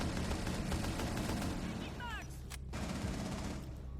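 Gunfire in the video game Rainbow Six Siege, a dense stretch of rapid shots and booming game sound, loud and continuous, with a brief sharp cutoff partway through.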